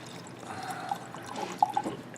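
Home-brewed custom beer is poured into a glass in a steady, trickling stream with a few small splashes and glugs, fairly close and with no voices over it.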